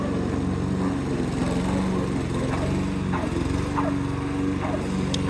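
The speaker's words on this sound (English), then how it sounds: "See how tall it is? Lawnmower just shreds through it." Lawn mower shredding through tall grass during a lawn service job, a loud, steady engine drone with no pauses, close up, with faint higher clicks and rustles riding on top.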